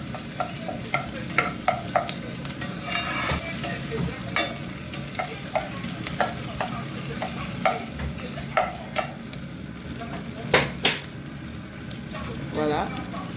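Bell pepper frying for a potato couscous sauce, a steady close sizzle broken by repeated scraping clicks of a utensil stirring the pan, with no talk.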